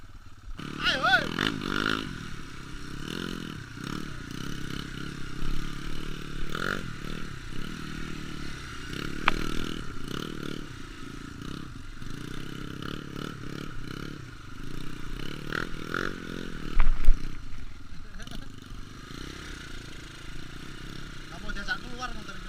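Enduro motorcycle ridden off-road near a ravine, its engine revving and droning steadily throughout with scrapes and clatter over rough ground, loud and close, while people talk and shout over it.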